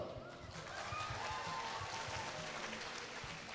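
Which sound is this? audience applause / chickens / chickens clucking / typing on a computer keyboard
audience applause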